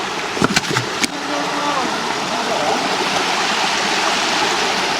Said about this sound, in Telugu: Water falls guys.